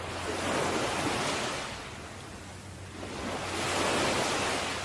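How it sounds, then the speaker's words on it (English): Ocean waves wash in and break on a beach, swelling and receding in a slow, steady rhythm, close and full, with no voices. "Hear the waves close by."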